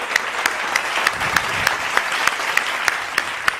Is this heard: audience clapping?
yes